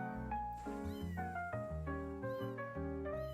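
Cat meows repeat through a song, about eight clear tonal mews in a loose rhythm that rise and fall in pitch, fairly faint overall.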